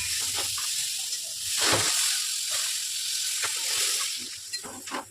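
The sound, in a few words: water added to sizzling fried masala in pan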